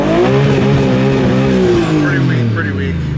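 A cheap, rusty BMW E36 drift car engine is held against its rev limiter, a loud, close, buzzing drone that wobbles rapidly in pitch as the limiter cuts in and out for about three seconds.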